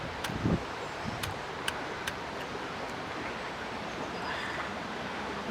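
Outdoors in windy Scotland, gusts rush past the microphone in a broad steady roar, with a few sharp faint clicks and a soft thump near the start.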